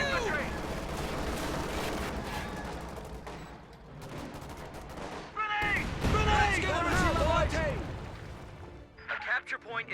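Heavy mortar fire in a wartime strategy video game: a series of deep booms and crashes, with voices talking over the barrage near the middle and end.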